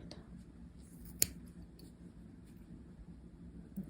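Scissors snip through yarn while a small knitted pom-pom is trimmed, one sharp close cut standing out amid faint quiet handling noise, with a softer click near the end.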